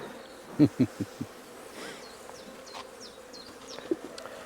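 Honeybees buzz around an open hive on a cool spring day at a farm apiary, a steady drone of wings with a few sharp, loud close passes early on and fainter flyby whines later.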